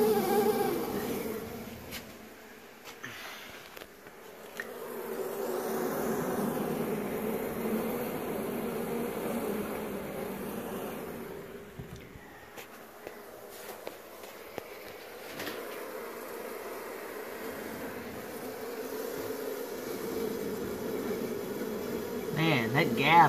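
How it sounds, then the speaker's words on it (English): Honeybees buzz inside a sealed hive during a hurricane, trying to get out through a gap, a close, wavering drone that swells and fades, with occasional rustling and brief talk. "Oh God, look at those bees trying to get out."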